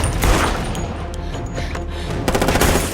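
Gunfire from an action film shootout: a dense, loud clatter of rapid shots and booming blasts over roughly three seconds, heavy and continuous with sharp cracks standing out.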